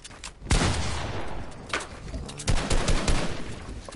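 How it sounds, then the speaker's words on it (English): Gunfire in a competitive shooter wager match, with several sharp close bursts and rapid cracks spread over a few seconds amid a busy game background. "I'm shooting at it like this."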